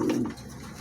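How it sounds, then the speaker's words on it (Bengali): Thin-bodied pigeons, including pouters, give a short low coo up close, a brief throaty burst that fades within a second. "দেখছেন চিকন বডির কবুতর, কুটারগুলো সব চিকন বডির কবুতর।"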